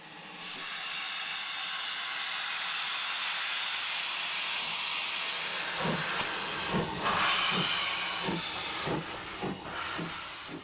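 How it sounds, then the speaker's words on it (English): An Ivatt tank steam locomotive of the London Midland Railway gives off a loud, steady hiss of escaping steam. Later, rhythmic chuffing beats break through the hiss, with a brief higher whistle-like tone. "this Ivet tank engine from the London Midland Railway"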